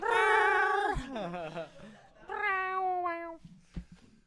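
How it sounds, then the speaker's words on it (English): A house cat lets out a long, loud meow, then a second drawn-out meow after a short pause, close to the microphone indoors, with a quiet voice in between. "The cat's being a fucker right now."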